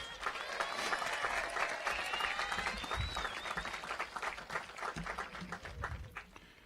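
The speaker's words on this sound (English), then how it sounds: "Give them a round of applause." A crowd applauds a graduating high school class of 2018 at a commencement ceremony, a dense, sustained wash of clapping with cheers rising through it, steady and loud from start to finish.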